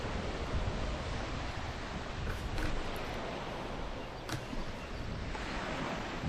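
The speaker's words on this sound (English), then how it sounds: "I love the waves here." Harbor waves make a steady broadband wash of surf with some wind rumble, continuous and even for several seconds, with no voices.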